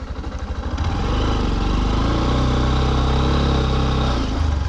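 A dirt bike engine runs close and loud, first pulsing with rhythmic throttle blips, then settling into a steady, strong drone with audible harmonics before easing off near the end.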